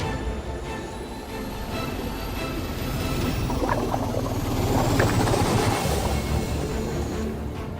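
Boat prop wash blower running underwater at 500 RPM on a treasure hunt for the lost 1715 Spanish fleet: a steady, loud churning rumble with a swelling mechanical whine, continuous throughout with no talk.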